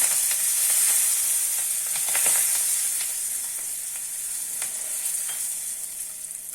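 Curry leaves (kadhi patta) crackle and sizzle in hot tempering oil off the flame, a bright, close spitting hiss with scattered pops that slowly fades as the oil calms.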